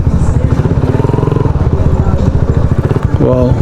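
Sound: big motorcycle of bikers

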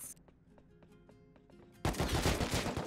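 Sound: gunfire in the video game Rust

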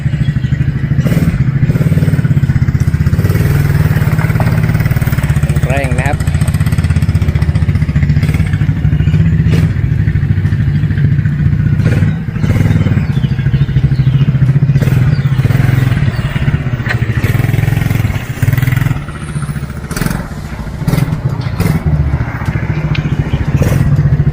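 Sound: Thunder 150 ATV being ridden

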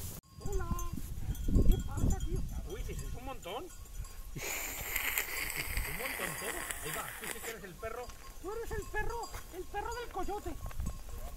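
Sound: sheep and goats bleating

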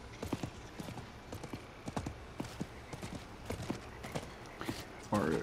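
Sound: horse hooves clopping, from a video game

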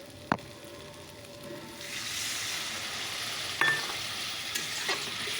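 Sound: water added to frying spices with mustard

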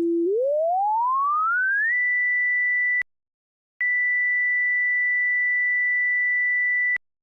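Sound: sine test tone with frequency being raised

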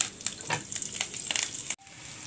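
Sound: mustard seeds spluttering in hot oil

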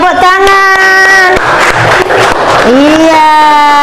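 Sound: children clapping their hands in class

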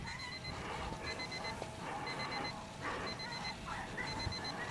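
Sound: timer alarm beeping

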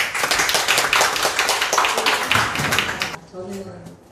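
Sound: applause for the next speaker

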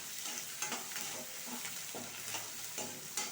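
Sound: frying onion, curry leaves and chillies in pan

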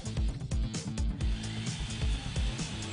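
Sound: Bosch GSB 162-2 RE Professional drill running

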